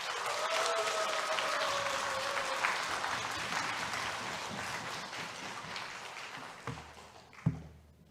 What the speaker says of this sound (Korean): 크게 박수하면서 환호하며 발을 굴며 우리 함께 환영하겠습니다